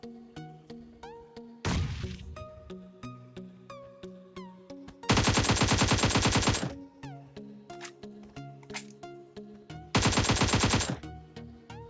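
Bursts of rapid automatic gunfire crackle loudly amid scattered single shots and ticking clicks, with a steady synthetic game soundtrack underneath, in the game PUBG.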